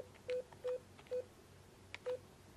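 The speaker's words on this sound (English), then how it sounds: "Enter your PIN, followed by the pound key." Telephone keypad tones on a Cisco IP phone: four short, evenly spaced DTMF beeps enter a PIN and the pound key, faint and clean over a quiet line hum.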